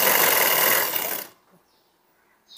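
Sewing machine running a steady, dense buzz for just over a second while stitching piping onto a round neckline, then stopping abruptly, followed by faint handling noise and a brief click.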